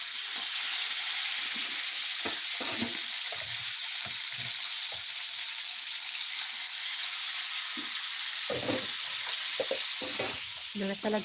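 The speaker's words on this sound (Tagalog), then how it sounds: "Nagprito ko isda." Fish sizzles in a frying pan with a continuous loud crackling hiss throughout, punctuated by brief knocks and clatters of utensils, with faint voices now and then in the background.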